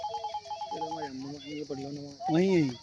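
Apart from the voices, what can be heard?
phone ringtone, incoming call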